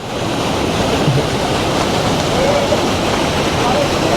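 Steady, dense rush of falling water fills the clip without a break, a loud continuous roar like a waterfall heard up close.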